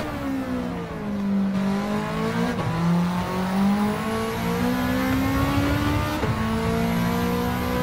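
Race car lapping a track in Gran Turismo 7, its engine droning loud and continuous with rising and falling revs through gear changes, with no talk over it.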